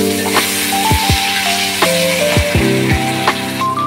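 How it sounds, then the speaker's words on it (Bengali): Potatoes fry in oil with a steady close sizzle, broken by repeated light clinks and scrapes of a utensil stirring in the pan. "আলুগুলো ফ্রাই হচ্ছে"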